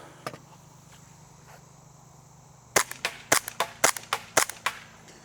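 A Novritsch SSP 5 airsoft pistol fires one early sharp snap, then after a pause a quick series of about nine crisp, close pops in uneven rhythm.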